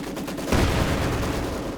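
Dense, continuous gunfire roars without a break, loud and near, as a Maxim machine gun crewed by Grenadiers fires in the Company of Heroes 2 strategy game, with a heavier burst partway through.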